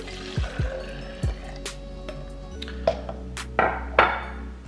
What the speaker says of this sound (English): So I'm putting 1 1/4 cup of water in here